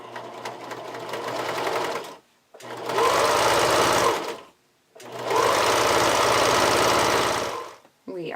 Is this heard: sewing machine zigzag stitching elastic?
yes